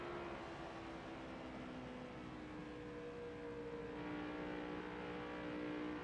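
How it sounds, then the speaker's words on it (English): A NextGen race car engine in NASCAR Heat 5 drones at a steady high pitch, a continuous loud buzzing roar that holds nearly constant throughout. "Engine actually sounds pretty good."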